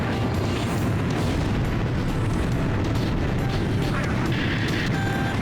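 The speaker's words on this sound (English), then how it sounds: "Artbird firing laser. And hit." Ace Combat 5 combat: a space-based laser weapon fires and strikes, with a dense, continuous roar of explosions and booming blasts throughout, loud and close.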